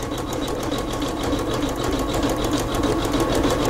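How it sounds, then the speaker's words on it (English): Sewing machine running a narrow appliqué satin stitch: a loud, steady, fast mechanical whir and chatter that continues unbroken on its own throughout. "So we might just let this sew and show you how it all looks"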